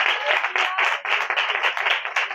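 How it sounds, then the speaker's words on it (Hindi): A congregation at a Hindi-language church gathering claps loudly, bursts of hand claps in an uneven rhythmic pattern with brief dips, close and strong, with no speech over them. "जोरदार तालियां बजाएं।"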